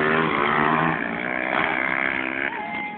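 A motocross motorcycle engine revs loud and close in a steady, buzzing harmonic drone, its pitch wavering slightly before the level drops near the end.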